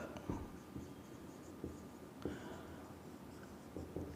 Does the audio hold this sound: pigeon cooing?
no